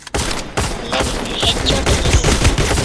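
Gunfire from the Free Fire battle-royale video game, with rapid, loud bursts of shots in quick succession, a dense fusillade that continues without pause and carries no speech.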